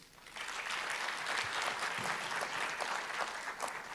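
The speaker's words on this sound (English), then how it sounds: "Can I ask for one more round of applause for His Excellency?" Conference audience at the Arab Coordination Group Forum applauds His Excellency after his speech: a full, even roll of many hands clapping, steady throughout and somewhat distant.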